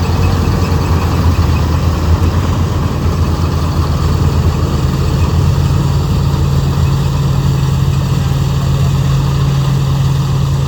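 A Kartar combine harvester's engine runs at full speed during the wheat harvest, a loud, constant low drone that continues for the whole stretch with no talk.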